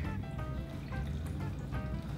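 Johnnie Walker Double Black Label Scotch whisky trickles and splashes from the bottle in an uneven, gurgling pour lasting a couple of seconds, fairly quiet and close, with no voices.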